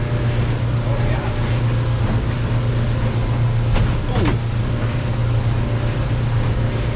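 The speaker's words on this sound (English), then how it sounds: "I can see the waves right here." Ocean waves and wind around a boat out at sea in big swells, a constant loud rushing wash with low engine rumble underneath and a couple of brief knocks.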